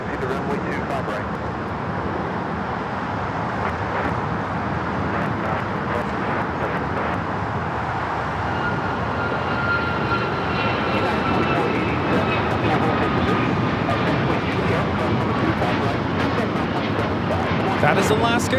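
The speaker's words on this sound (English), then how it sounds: "1348 taking off to Puerto Vallarta on the MAX 9" Alaska Airlines Boeing 737 MAX 9 departing Los Angeles International Airport for Puerto Vallarta, a broad continuous engine roar that slowly builds and holds at a distance, with faint background traffic and a voice talking intermittently.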